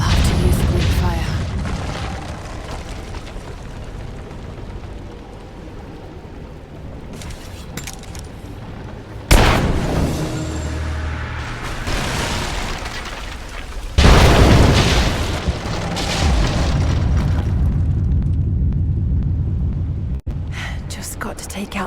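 Explosions of Greek fire in a video game, as a collapsing statue and its supports are blown up. Two sharp, loud bursts land midway, each followed by roaring debris and rumble, amid dense game noise and voices.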